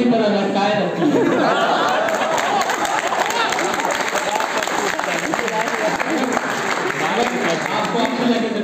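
Audience at a welcome-party comic poetry event at a veterinary college in Patna, steady applause with crowd chatter throughout, under a speaking voice.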